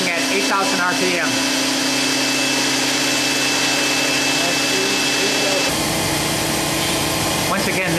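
Spindle of a 2003 Okuma MCR-B II 20/40 CNC vertical machining center running at 8,000 RPM with the ram fully extended, a loud steady broadband whir with a constant high tone, shifting character partway through.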